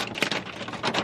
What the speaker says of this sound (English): it's not rain, it's hail.